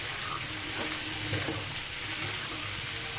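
Chickpeas (chola boot) frying in a pan give a steady, close crackling sizzle that runs evenly throughout with no voices.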